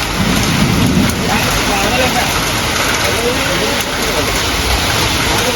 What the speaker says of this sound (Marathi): पाऊस भरपूर आहे बाहेर